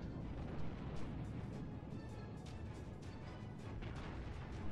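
Heavy, rumbling warship gunfire from the battleship Kaiser Nikolai I in World of Warships booms again and again over a dense, continuous roar, loud and close, with no talking.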